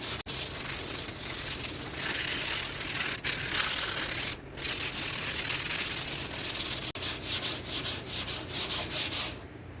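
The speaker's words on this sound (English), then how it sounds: "After I sand this down" Sanding an antique wooden chest of drawers: a steady, close, loud rasping scrub runs almost continuously, with brief pauses and a faster pulsing rhythm toward the end.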